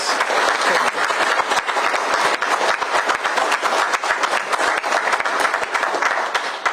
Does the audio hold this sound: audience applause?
yes